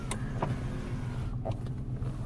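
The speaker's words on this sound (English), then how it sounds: "All the seat controls still work." Electric power seat motors whirring in a 1992 Buick LeSabre, a steady low motor hum running continuously with a few faint clicks as the controls are worked inside the car.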